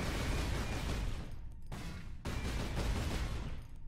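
Dense, loud gunfire crackles from a Warhammer 40K Space Marine game battle, a sustained barrage of overlapping shots broken by two brief gaps, with no voices over it.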